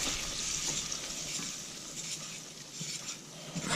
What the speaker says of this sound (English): we're going to take our whisk and mix that up here